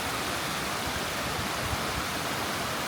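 Glacier-fed waterfall at Hanging Lake with water running down the mountain, a constant full rushing roar that stays steady and unbroken throughout, with no talking.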